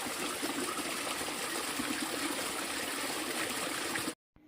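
Fresh spring water at Tirumala pours and rushes in a steady, dense stream heard up close, continuous and fairly loud, until it cuts off abruptly just before the end.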